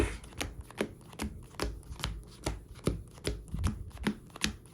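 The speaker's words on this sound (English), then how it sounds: "Let's just go ahead and power shuffle here real quick" Sleeved Yu-Gi-Oh! trading cards get power shuffled in a steady rhythm of crisp, evenly spaced slaps and rustles, about two per second, close and moderately quiet, with no voice.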